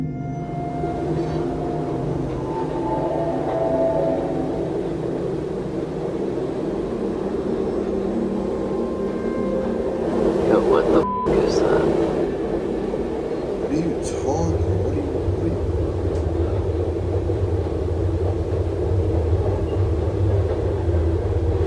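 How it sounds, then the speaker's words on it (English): A train rumbles past close by with a heavy, sustained drone and clatter that swells midway, with voices heard at times. "he comes to a stop at a railway crossing just as the train passes"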